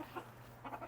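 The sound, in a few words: black Bantam Cochin rooster clucking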